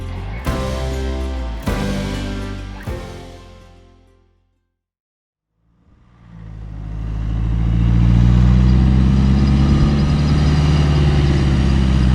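A car towing a trailer drives off a sandy beach at Sandy Cape, Western Australia, on lowered tyre pressures. A few engine revs and a short lull lead into a loud, steady, low engine roar that builds and holds as the vehicle pulls away.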